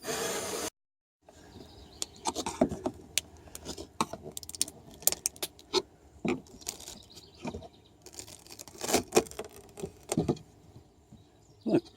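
A power driver zips screws out of wooden companionway hatch boards on a Siren 17 sailboat, with sharp clicks, clinks and short whirring bursts scattered irregularly after a brief silent gap, close and fairly loud.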